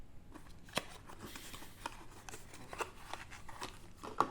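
Plastic and cardboard packaging of a Ferrari F355 toy car being opened by hand, with soft crinkling, rustling and a few sharper snaps and clicks scattered over a few seconds, close and fairly quiet.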